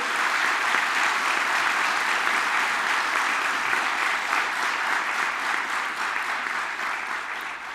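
Sustained audience applause fills a party group meeting hall, a dense steady wash of clapping from a large crowd that holds loud and even throughout with only a slight fade toward the end.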